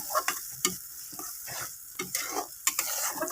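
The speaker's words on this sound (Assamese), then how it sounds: "কেৰাহীত দি ভালকৈ লৰাই দিম" Ground masala paste being stirred in a wok as it fries, with a steady sizzle broken by sharp scraping strokes of the spatula at irregular intervals, close and clear with no talking.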